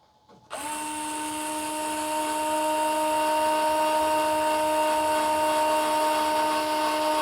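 A Fanttik S1 Pro cordless screwdriver starts after a brief click and then whines at a steady, constant pitch as it drives a screw with a square bit, running close and alone for several seconds without any talk.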